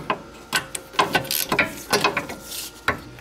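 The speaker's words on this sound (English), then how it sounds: "Now I'm tightening the bottom one" A ratchet tightens the caliper bracket bolts on a 2008 VW Passat's rear brakes, giving close bursts of rapid clicking in uneven strokes, with no talking.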